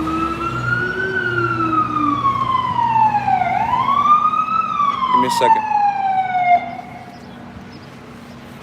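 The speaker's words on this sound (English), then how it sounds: "It's the ambulance." A passing ambulance siren wails in rising and falling sweeps, loud and close, then cuts off and fades after about six and a half seconds; someone speaks briefly over it.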